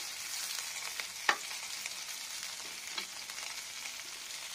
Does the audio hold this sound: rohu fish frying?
yes